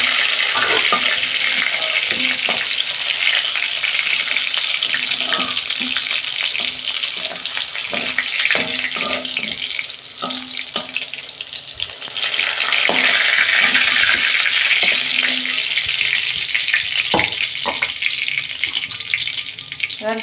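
Pointed gourds fry in hot oil in a pan with a loud, continuous sizzle. Scattered clicks and scrapes from stirring and turning sound close throughout.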